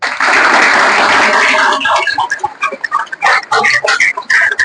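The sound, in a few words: applause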